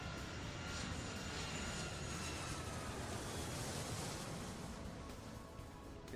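A fixed-wing airliner takes off in the Airport Madness 3 airport simulation, its engines giving a steady, loud broadband roar that holds for several seconds with no talk over it.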